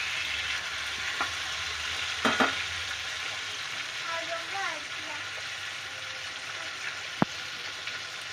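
Continuous sizzling of fish frying in a pan, with a few clicks and a brief faint voice-like tone partway through.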